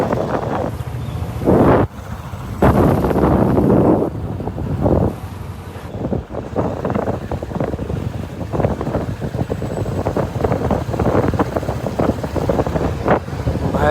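Strong wind buffets the microphone during a motorbike ride on the Vrindavan parikrama route, a constant loud roaring rush that carries on throughout with shifting gusts.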